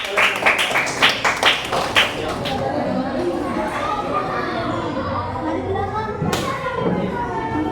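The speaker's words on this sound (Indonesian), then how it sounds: "Tepuk tangannya anak-anak" Schoolchildren in an Islamic religious education class clap together in a quick burst of loud, rhythmic claps near the start, then a noisy room murmur with voices and scattered thumps follows.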